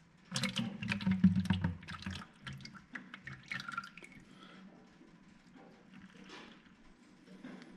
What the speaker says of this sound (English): First thing to do is get the oil draining out.